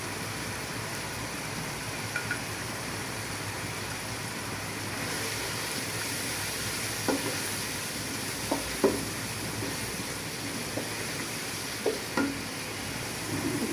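Spices with ginger paste, chili, cumin and coriander powder sizzling in a pan for chicken biryani, a steady frying hiss with a few soft clinks of stirring, close and alone.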